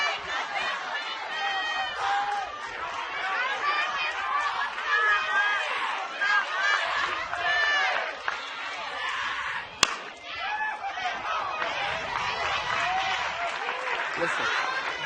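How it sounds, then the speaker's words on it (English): Crowd at a Little League Softball World Series bracket final reacting to a call, a continuous noisy swell of cheers and chatter with a brief sharp slam near the end. "you hear the crowd react"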